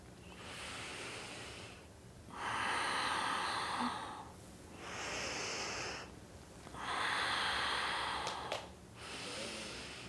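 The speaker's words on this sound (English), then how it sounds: "keeping your focus on the breath, inhaling as you stretch, Exhaling as you bring the hand down" Slow, deep breathing during a seated yoga practice: two long, airy inhale-exhale cycles, close and steady, with quiet pauses between breaths and no talking.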